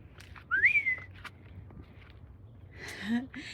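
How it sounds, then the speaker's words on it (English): Short whistled notes, one bright rising chirp followed later by a softer lower whistle, with light rustling and footsteps in the background. "And then I whistle for them."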